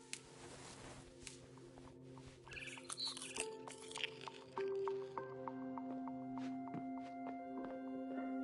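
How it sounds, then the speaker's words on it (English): A barn swallow chirps in the video game What Remains of Edith Finch. Faint, quick high chirps come in a short cluster, set among soft drips and steady ambient tones. "Then I heard chirping outside my window."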